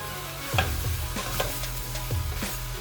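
Sweet potato and coconut milk soup mixture being stirred in a pot, a few soft scraping strokes with a faint simmering sizzle underneath, close and quiet.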